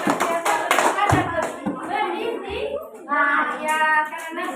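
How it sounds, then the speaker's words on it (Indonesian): Children in a classroom give a group a round of applause, with several short bursts of clapping mixed with children's voices and chatter. "Ya, tepuk tangan untuk kelompoknya."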